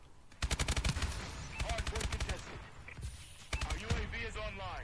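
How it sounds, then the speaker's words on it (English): Rapid, loud bursts of shotgun and automatic gunfire in the Call of Duty: Advanced Warfare shooter, arriving in clustered volleys with gaps between them, layered with game effects and someone talking. "how much range does the shotgun have in this game?"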